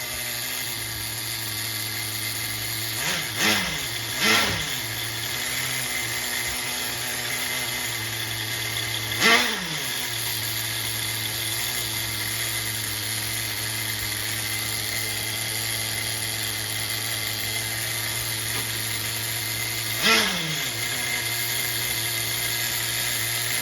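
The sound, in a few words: HPI MT2 nitro RC truck engine running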